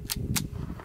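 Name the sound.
Ruger Mark IV pistol shot unsuppressed, federal ammo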